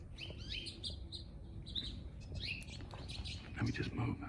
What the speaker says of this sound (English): We've got 2 common finches.